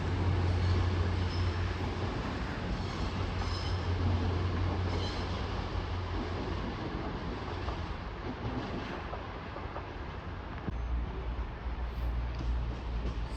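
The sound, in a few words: train at Sheffield station on the Midland Main Line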